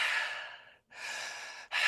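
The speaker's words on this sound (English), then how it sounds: "breathe through your mouth and out through your mouth" A person doing breathwork takes deep, audible mouth breaths, two long airy exhales or inhales with a brief silent gap and a third starting, close and clear with no talking.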